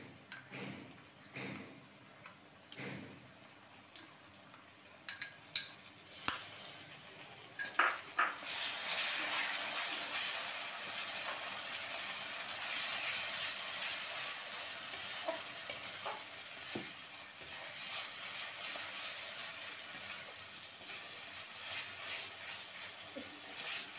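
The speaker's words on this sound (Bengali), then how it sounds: "এবার পেঁয়াজটা হালকা হালকা ভাজা হয়েছে, এবার এতে আমি ভিনিগার দিয়েছি। এবার আমি মশলাটা পেঁয়াজেতে দিয়ে দেবো।" Onions and spices frying in a pan with vinegar, with a few sharp stirring clicks and knocks early on, then a steady loud sizzle that persists close by to the end.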